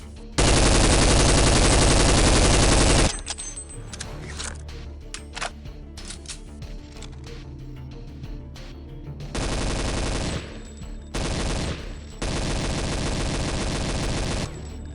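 Sustained bursts of automatic fire from the SG552 rifle in Counter-Strike: Condition Zero, one long loud rattling burst followed by scattered single shots and clicks, then two more extended loud bursts with a short gap between them.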